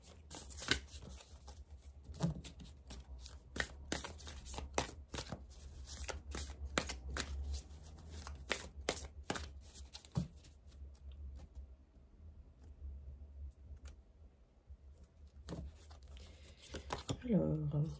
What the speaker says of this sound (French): Je vais mettre une autre carte ici